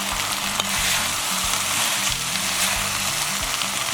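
A spoon stirs hot and sour soup in a pot over high heat, with black vinegar, enoki mushrooms and shredded carrot. A steady close sizzle and soft scraping run throughout, and a low hum sits underneath.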